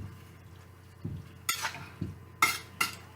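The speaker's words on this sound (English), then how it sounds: "You don't want your meat to stick, so you got to stir." Meat being stirred in a pot: a utensil scrapes and knocks against the metal several times in an uneven rhythm, close and fairly quiet, with no talking.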